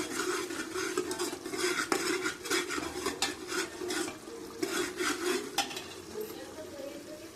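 Boiled pasta with masala roasts in a pan while a spoon scrapes and clatters against the metal in quick rhythmic strokes over a soft background sizzle, fairly quiet and close, with no voices.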